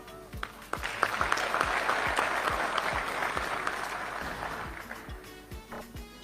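An audience claps during a presidential speech in Botswana, with individual sharp claps standing out against a building, sustained wash of applause that fades toward the end.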